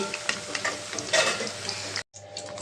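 Cauliflower florets and potato pieces fry lightly in oil in a pan, giving a steady close sizzle with soft stirring scrapes and crackles, cut off by a brief gap near the end.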